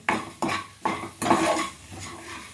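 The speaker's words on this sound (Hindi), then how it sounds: "तो बस 1 से 2 मिनट इन्हें भी भून लेते हैं, लगातार चलाते हुए, छोड़िएगा नहीं।" Dry fruits roasting in a pan are stirred with a metal spoon, making four or five distinct scraping strokes with a soft rattle of nuts and faint sizzle, close up and without speech.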